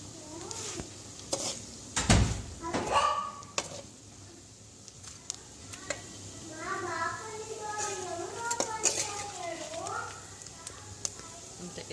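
Dry fish crisping in a hot pan as it is stirred, with a steady sizzle broken by scraping clatter and spoon knocks; a voice talks over much of the frying.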